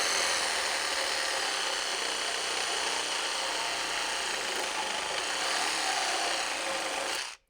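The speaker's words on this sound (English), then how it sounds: "the compact roof batten doesn't pose a real problem for the Makita DJR189" A Makita DJR189 cordless reciprocating saw with a wood blade cuts through a 55 by 35 mm wooden roof batten, a loud, continuous buzzing rasp of the blade chewing wood that runs steadily for about seven seconds, then stops abruptly.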